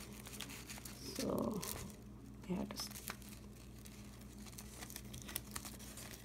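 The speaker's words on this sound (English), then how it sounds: "As I don't have at home right now, so I'm using tape here." Tape crinkles and tears in short bursts while a greeting card is being put together, quiet and close, with someone talking softly alongside.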